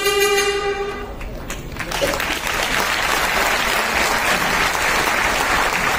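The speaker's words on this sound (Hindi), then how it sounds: "मैं चाहती हूँ इस पल की अनुमोदना में तालियां रुके नहीं, लगातार बजती रहें" Audience applause at a foundation ceremony honouring fallen soldiers, a dense steady clatter of many hands that rises and holds loud after a brief tonal start, with a voice faintly heard early on.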